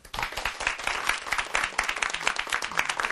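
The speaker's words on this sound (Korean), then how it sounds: "큰 박수 부탁드립니다." An audience at a lecture claps in steady, enthusiastic applause that continues throughout.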